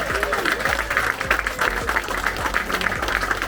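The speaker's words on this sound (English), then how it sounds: "big round of applause to Maybelle and Richie for hosting us tonight" Guests at a party at Maybelle's Coffee Garden in Phuket clap for the hosts Maybelle and Richie. The sustained applause sits over music with a low, sliding bass line.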